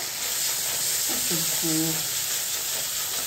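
Spices sizzle in hot oil in a pan while being stirred for dum aloo, a loud constant frying hiss with brief stirring sounds partway through and no talk.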